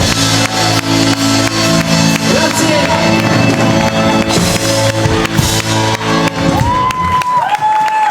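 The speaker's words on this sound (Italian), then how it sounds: "Un applauso per lui!" A crowd at an outdoor Eurobeat mix party by a lake in Castelfranco Veneto cheers, whoops and applauds for a performer over loud ongoing dance music, with shouting voices in the mix.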